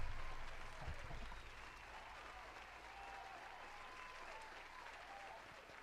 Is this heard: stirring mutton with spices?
no